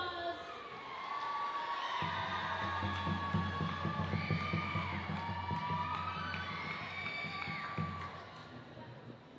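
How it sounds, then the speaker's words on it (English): An audience cheers and shouts for a dancer at a Tahitian dance competition, with crowd noise throughout and steady drumming underneath for most of the stretch. "Give her a round of applause."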